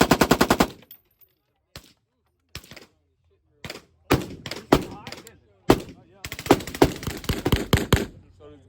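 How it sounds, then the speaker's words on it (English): A .308 SCAR rifle fires fully automatic in loud close bursts: a rapid string at the start, scattered single shots and short bursts, then longer rattling bursts near the end, with brief voices between. "So 308 Scar, fully automatic."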